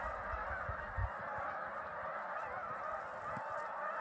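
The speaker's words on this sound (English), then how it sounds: "That's a lot of geese." A flock of geese honks continuously in the distance on a waterway in western New Brunswick, Canada, a faint, steady chorus of overlapping calls with no talking.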